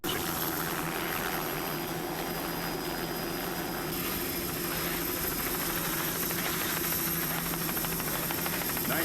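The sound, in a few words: offshore racing powerboat engine throttling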